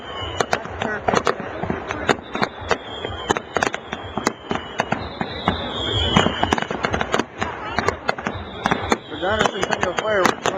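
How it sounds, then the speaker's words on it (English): Fireworks at the Regina Centennial display crack and pop in rapid, irregular bursts, some with whistling rising trails, loud and close, with crowd voices and talk mixed underneath. "Regina Centennial Fireworks"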